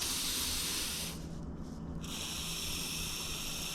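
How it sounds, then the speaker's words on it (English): WD-40 aerosol sprayed onto a bike chain, a close steady hiss that dips briefly in the middle before resuming just as strongly. "what I do is just soak this one as well with WD-40"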